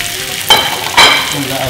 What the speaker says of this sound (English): Oil's nice and hot, see it's moving around the pan nice and fluid.